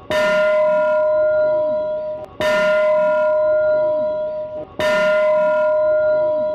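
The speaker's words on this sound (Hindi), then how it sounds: "फिर से वही घंटी बजी।" Three strikes of a resonant bell, each a loud clang that rings out and fades for about two seconds before the next, an even tolling rhythm with nothing else heard.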